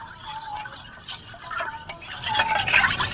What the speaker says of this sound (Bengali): এইভাবে একটু ফেটিয়ে ফেটিয়ে চিনিটাকে ভালো করে গলিয়ে নিতে হবে।